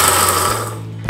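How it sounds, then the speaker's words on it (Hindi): An electric grinder coarsely grinds chole masala spices in a loud, steady whir that cuts off abruptly after about a second. "चलो हम इसे दरदरा पीस लेते हैं।"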